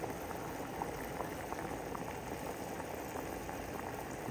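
Acorns gathered from a park boil in a pot of water, producing a constant dense bubbling and rolling simmer at low, even loudness, with no voices.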